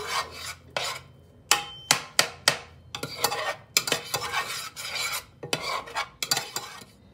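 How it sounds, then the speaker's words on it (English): Egg roll filling stirred in a pan with seasoning, giving repeated close scraping and rubbing strokes in an uneven rhythm and a faint sizzle between them. "now we want to give that a really good stir to just get all that seasoning coated on what's in our pan"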